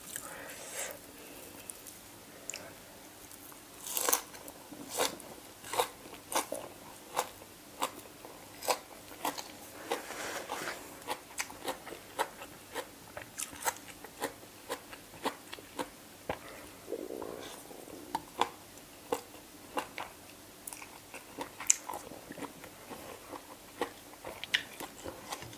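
Someone eats spicy green papaya salad, biting and chewing close to the mic with many sharp crunches in an irregular stream and faint mouth noises between them; no talking.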